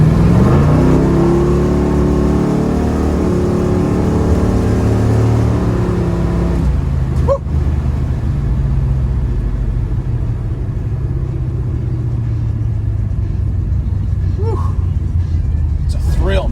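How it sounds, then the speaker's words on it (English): A 1972 Chevrolet Nova with a big block engine revs under throttle on a small road, its rumble rising and falling with a steady low drone, then easing back, while a voice talks over it. "See if I can go to a little road here and get up on the throttle a little bit."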